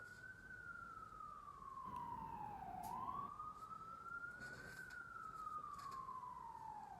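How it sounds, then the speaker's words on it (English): A wailing siren sweeps slowly up and down in pitch, steady and fairly loud, with low traffic rumble underneath. "But yeah, I hear them sirens, right?"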